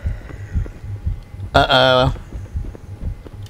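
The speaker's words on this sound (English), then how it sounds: "I hear a heartbeat." A heartbeat effect in the horror video game Lunch Lady, a steady low thumping pulse running throughout under the game's ambience, with a brief spoken interjection in the middle.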